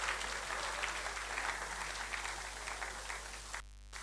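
Audience applause at a live-streamed institutional ceremony, a steady wash of clapping from a crowd that carries on evenly for several seconds before cutting off abruptly near the end.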